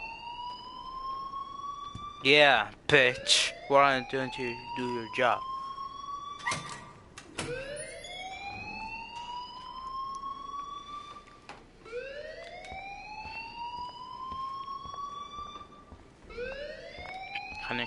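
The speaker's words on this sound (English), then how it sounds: "please turn off that alarm since that's your job" An alarm wails in repeated rising sweeps, each tone climbing and then cutting off, loud and persistent throughout, with a stretch of rapid pulsing bursts near the start and a person speaking over it.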